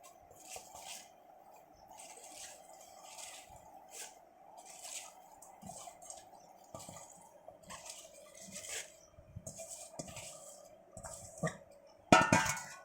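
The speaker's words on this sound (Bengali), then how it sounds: "এখন আমি প্রেসার কুকারে এটা দিচ্ছি" Washed taro leaves are packed into a pressure cooker, making soft, intermittent squishes and wet rustles with light metal clinks, a steady faint hum underneath, and a sharper clatter near the end.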